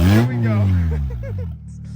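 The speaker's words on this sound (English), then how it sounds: "I know you guys want to hear this VTEC." A Honda Civic drag car with a VTEC engine and manual gearbox revs hard up close, a loud climbing roar that then winds back down to idle.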